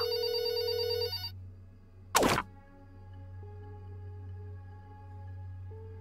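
In the video game There Is No Game, a single electronic telephone ring cuts off after about a second, followed by a sharp click and a low steady hum.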